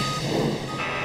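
Truck reversing alarm beeping steadily and loud over engine rumble at a building demolition and cleanout site, the tone shifting slightly near the end.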